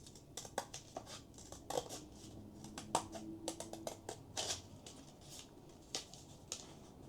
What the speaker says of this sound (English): And take your scissors